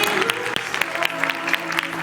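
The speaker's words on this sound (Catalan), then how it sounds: "Un fort aplaudiment, sisplau." A crowd applauds warmly, dense clapping filling the short stretch with a few sharper individual claps standing out above a faint background hum.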